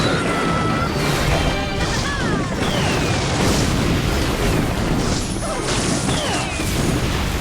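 Clash Royale game audio with crashing, booming impacts and explosions from bombs, dense and loud throughout amid continuous battle effects.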